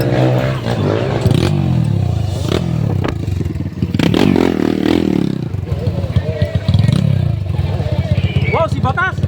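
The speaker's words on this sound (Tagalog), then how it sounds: "Ay, mahingay ang motor mo." A loud, rough-running motorcycle engine revving and clattering close by, with people talking and shouting over it throughout.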